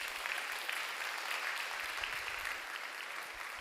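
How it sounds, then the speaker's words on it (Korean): A church congregation at a Sunday youth worship service applauding together: a steady, dense wash of clapping from the whole room that stays even throughout. "박수로 환영하겠습니다."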